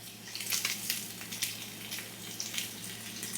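Salmon cakes fry in grass-fed butter, giving a constant close sizzle with crackling spits and pops and a low hum beneath, and no talking.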